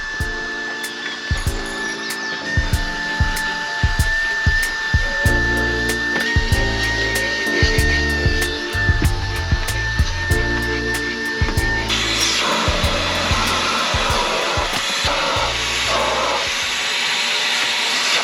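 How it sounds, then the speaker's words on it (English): Vacuum cleaner hoovering the mouldy interior of a Mitsubishi Evo 8, a loud close whine with repeated knocks and bumps as the nozzle moves, shifting to a broader rushing roar partway through. "we're just going to hoover up that as well"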